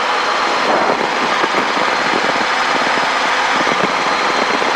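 A helicopter flies at night over the Los Angeles Basin near Fullerton, its engine droning as a loud, constant, close roar with no break throughout.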